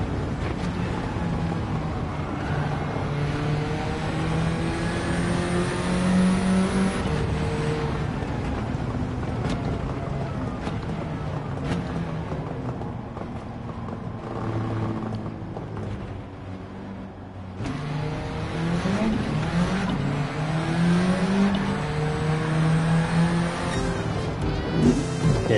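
A Mini's engine drones and revs at speed in Gran Turismo 7, a continuous harmonic whine that sweeps up and down through gear changes, loud and steady for the whole stretch with a brief dip midway.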